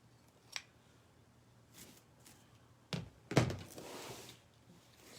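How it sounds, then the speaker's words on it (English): Scissors snip through frayed threads on a white Christmas tree craft project: a few soft, close cuts and light handling thunks in an otherwise quiet room. "So we see frays, we just cut them off."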